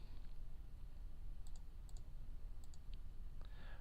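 Computer mouse clicking in quiet paired taps, a few double clicks spaced about half a second apart, faint and close over low background hum.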